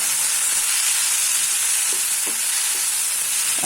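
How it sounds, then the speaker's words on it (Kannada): Ginger and garlic fry in a pan with a steady, bright sizzle, and a few soft stirring taps break through the hiss. "ಒಂದು ತುಂಡು ಶುಂಠಿ ಹಾಕಿಕೊಂಡಿದ್ದೇನೆ ಹಸಿ ಸ್ಮೆಲ್ ಹೋಗೋ ತನಕ ಇದನ್ನು ಫ್ರೈ ಮಾಡಬೇಕು"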